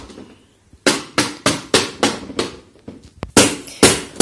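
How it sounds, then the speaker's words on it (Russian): Renovation work nearby produces loud hammer blows in a steady, evenly spaced series of sharp impacts with ringing decay, alone with no voices. "У меня тут ремонтные работы идут."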